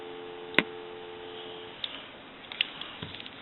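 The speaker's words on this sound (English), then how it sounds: "Give you some dial tone" Steady dial tone on a regular line from an Automatic Electric rotary desk telephone, a low even hum lasting under two seconds with a sharp click at its start and a few faint ticks after it stops.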